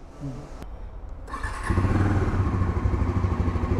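A Bajaj Pulsar NS400 400cc motorcycle cranks briefly and fires up, settling into a loud, close, throbbing idle with a steady mechanical rumble.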